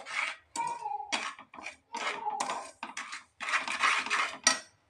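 A spoon stirs and scrapes a thick sweet thirupagam mixture with ghee in a pan, heard as close, intermittent clinking and scraping bursts with short pauses between strokes.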